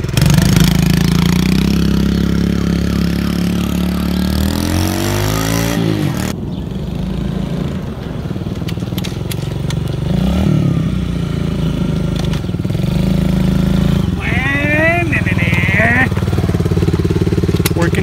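A motorbike engine, run for the first time after about five months sitting unused, starts and settles into a steady close idle with a few revs and some clattering, while a person talks over it.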